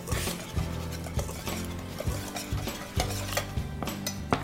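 Spoon stirring dry ingredients for chocolate protein bars in a bowl, a steady scraping swish with repeated clinks against the bowl sides, close and clear with no talk.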